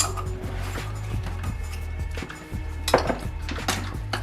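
A utensil stirs a soy sauce and cayenne rib sauce in a bowl, making close, rhythmic clinks and scrapes against the bowl over a low hum.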